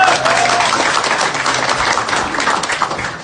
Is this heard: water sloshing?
no